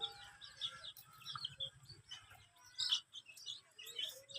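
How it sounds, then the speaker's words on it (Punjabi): Young chicks in a village chirp in high, repeated peeps close by, with some clucking fowl and scattered bird calls over a quiet low rumble. "ਚੂਚੇ ਵੀ ਆ ਗਏ, ਉਹਨਾਂ ਨੂੰ ਤਾਂ ਦੇ ਦਿਓ।"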